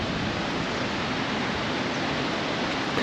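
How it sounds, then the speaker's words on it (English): Steady, dense roar of rushing water from the powerful Tanggedu Waterfall in East Sumba, Indonesia, during rainy season, loud and continuous with no voices. "it's a really powerful waterfall"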